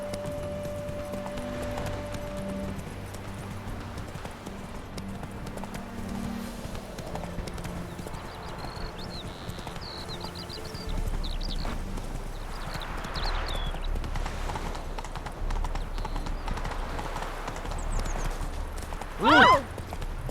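Hooves of Roach, a horse galloping in The Witcher 3, a steady rapid clip-clop that runs throughout under game music, with a rider's voice and other speech heard over it.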